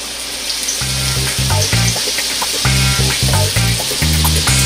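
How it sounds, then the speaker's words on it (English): Rolled lumpia wraps slip one at a time into hot cooking oil and set off a loud, crackling sizzle, with rhythmic low thumps pulsing underneath throughout. "you just want to go ahead and drop them in the oil"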